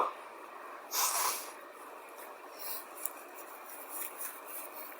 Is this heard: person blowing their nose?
yes